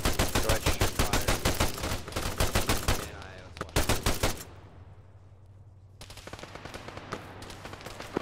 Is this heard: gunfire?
yes